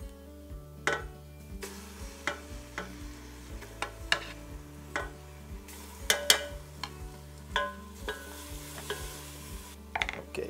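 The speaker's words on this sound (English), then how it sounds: "Now, we are making a roux, and we're gonna stir it" A spoon stirs a flour roux in a pot for French onion soup, making regular close scrapes and taps against the pot over a soft sizzle, with a steady low hum behind it.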